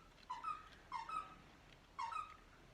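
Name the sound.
dog playing with a squeaky toy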